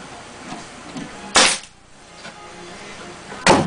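A nail gun drives fasteners into wood while a rabbit nest box is built, giving two sharp, loud pneumatic snaps a couple of seconds apart, close by.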